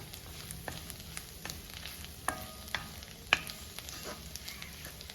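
Spice powders being sautéed and stirred in a pan for a Kerala-style tomato curry: a continuous close sizzle broken by repeated spoon scrapes and clinks against the pan, with no voices.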